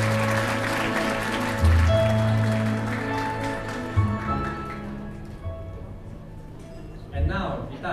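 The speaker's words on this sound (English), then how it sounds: "let's give you a round of applause" Wedding guests applaud at a reception, steady clapping that runs under a talking voice and gradually fades.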